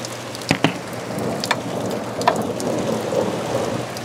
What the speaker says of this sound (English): The storm is right above us.